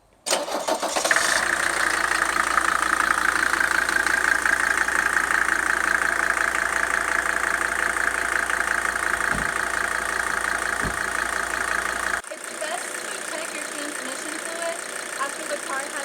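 A Mercedes W123 engine is started and settles into a steady, close idle with a humming drone, then cuts to a quieter, duller tone near the end.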